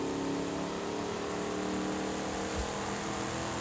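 A car engine with a deep growl cruising in high gear in the Forza Horizon 5 racing game, a steady loud drone held evenly throughout without clear revving.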